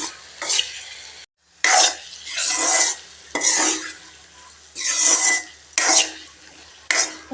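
Cooked pumpkin and sugar being stirred in a pan, with a series of loud, close scraping strokes of a spatula against the metal, each lasting about half a second to a second with brief pauses between.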